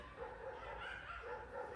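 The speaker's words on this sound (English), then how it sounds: "It's those idiotic next door neighbors. Their dogs are insane." Next-door neighbours' dogs bark in the distance, faint repeated yelps and barks heard from inside a home garage over a low background hum.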